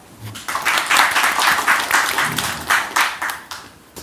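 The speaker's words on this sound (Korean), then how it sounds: "박수 부탁드립니다." An audience claps to welcome the prime minister at a public discussion event, lively close applause in uneven bursts that swells and then fades toward the end.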